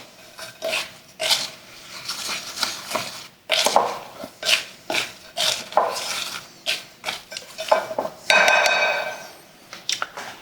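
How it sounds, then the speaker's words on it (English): A spoon clinks and scrapes against a bowl while dry oat ingredients are stirred together, a series of close, bright metallic strokes in an irregular rhythm. "we're gonna get a spoon and we're gonna mix those all together"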